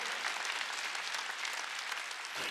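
A church congregation at a Wednesday worship service claps together in a steady, fairly faint wash of many hands that dips briefly near the end before resuming.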